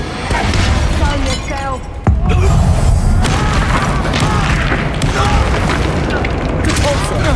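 A loud, booming Expulso blast spell from Hogwarts Legacy gameplay, with a sharp crash around two seconds followed by a sustained rumbling roar and debris, a voice speaking briefly beforehand.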